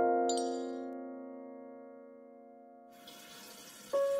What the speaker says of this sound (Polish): Dźwięk wody płynącej w łazience